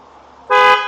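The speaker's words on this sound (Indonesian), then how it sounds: "Kemudian kita coba dengar klaksonnya ya kawan-kawan" A Mitsubishi Galant fitted with a snail-type horn gives one loud, bright honk that starts sharply midway and holds steady, after a brief stretch of low idle.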